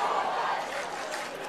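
A loud, steady roar from a crowd at a women's football grand final between Norwood and an opponent, a dense, continuous wash of cheering and shouting with no single voice standing out.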